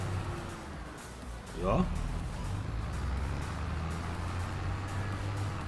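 Massey Ferguson 7720 S tractor driving in Farming Simulator 22, a steady low engine rumble running throughout under a brief spoken word, with a short rising whine of revs near the start.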